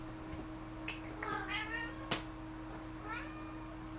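A cat meows several times, drawn out and wavering, over a steady electrical hum and faint background noise, with a sharp click near the middle.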